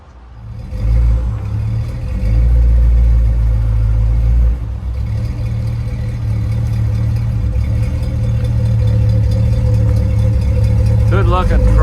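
A 1940 Ford pickup truck engine runs loud and close, rising from idle into a sustained rev and holding a deep, steady drone for about ten seconds.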